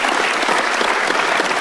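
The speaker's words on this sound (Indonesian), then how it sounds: "Boleh tepuk tangan buat Pak Jokowi." A studio audience at a televised talk show breaks into dense, loud, steady applause, many hands clapping together with no letup and no voices on top.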